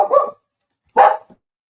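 A dog barks twice during a live TV finance broadcast, two short separate barks close to the microphone with silence between them and no talk over them.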